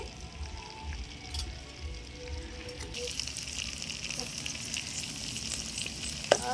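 Chicken pakoda pieces fry with green chillies and curry leaves in hot oil, giving a steady crackling sizzle that grows brighter and louder partway through, with a sharp pop near the end.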